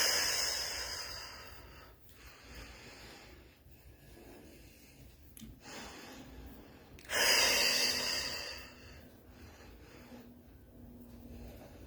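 Slow, deep breaths during a guided breathing exercise, several long inhales and exhales heard close up over a steady hiss with no talking.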